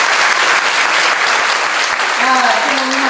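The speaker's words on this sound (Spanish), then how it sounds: "Un fuerte aplauso para ellos" Loud, sustained applause from an audience filling the room at a seminar, steady and close, with a voice briefly rising through the clapping near the end.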